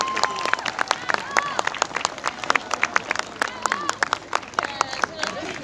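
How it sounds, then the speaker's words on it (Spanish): An outdoor crowd applauds at a patronal festival in Villa Carlos Paz, with scattered, uneven claps of moderate loudness over a background murmur of voices. "Fuerte el aplauso para Eduardo Tucho Moreno de Santa María de"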